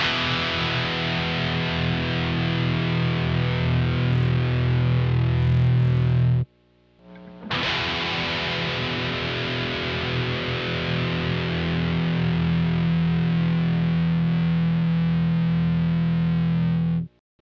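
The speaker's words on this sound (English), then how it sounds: "Here is a Les Paul Custom with active EMG pickups." A Les Paul Custom electric guitar with active EMG pickups plays heavily distorted, sustained chords through an amp, loud and thick, with one brief break before the ringing resumes and then cuts off.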